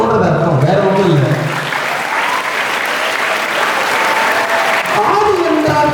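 Audience applause at a school Kamarajar birthday celebration, a steady dense clapping that fills the whole stretch, loud and continuous with some voices mixed in.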